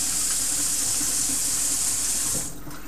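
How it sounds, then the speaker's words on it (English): Cold tap water runs steadily into a sink to rinse canned oranges, a loud, even hiss and splash that eases slightly near the end. "I take some cold water and I rinse it all a couple times just to get all of the sugar and things out of it"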